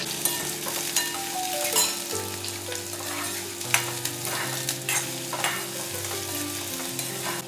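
Crackling sizzle of onions frying in hot oil with mustard seeds and chillies, with frequent scraping and stirring clatter. A low musical hum runs underneath.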